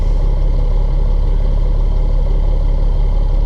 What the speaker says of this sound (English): Here's how the exhaust sounds at idle,